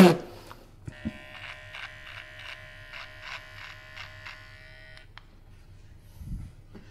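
An electric shaver buzzes steadily while shaving off a mustache, its hum pulsing in a regular rhythm for several seconds before cutting out, close to the listener, with brief speech heard around it.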